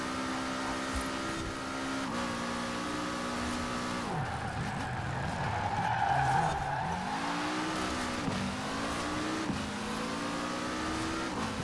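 A Lego Mini car in the Forza Horizon racing game revs hard through several gear shifts, its engine note climbing and dropping, with tire squeals and skidding in the middle, loud and continuous.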